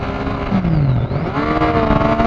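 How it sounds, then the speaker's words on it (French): Triumph Street Triple R motorcycle with a full Arrow exhaust and quickshifter, the engine droning loud and close while riding, pitch sliding down then climbing again as the rider shifts. "La sonorité du moteur est super."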